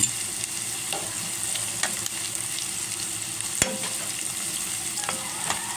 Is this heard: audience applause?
no